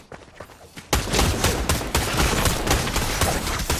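Rapid, dense gunfire in Fortnite erupts after a moment of quieter game noise, loud sustained bursts of shots continuing steadily to the end.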